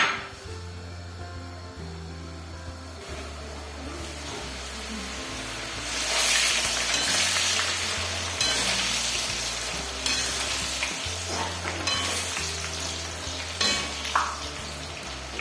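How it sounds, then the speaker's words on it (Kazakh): Chak-chak dough pieces fry in hot oil over high heat, a dense bubbling sizzle that swells louder midway and stays steady with occasional clinks and scrapes; no one speaks. "Дайын болған қамырларымызды қатты отта қысып тұрған майда пісіріп аламыз."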